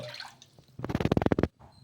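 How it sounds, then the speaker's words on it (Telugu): Water poured from a cup into a pan on the stove for cooking rumali paratha, a short steady splashing pour of about a second, close and alone. "అందులోకి కప్పు బావు నీళ్ళు అయితే వేసుకోవాలి"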